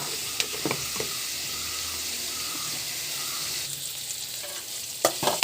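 Ripe tomato and masala sauté in a pan for a Kerala prawn curry, making a steady bright sizzle with occasional stirring scrapes and clinks, no voices.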